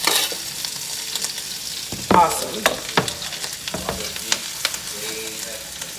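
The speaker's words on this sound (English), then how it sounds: "bring the cutting board over to the pan, and slide the onions in" Onions slid from a cutting board sizzle loudly in a hot pan, a steady frying hiss punctuated by sharp pops and utensil clacks, with one brief spoken word.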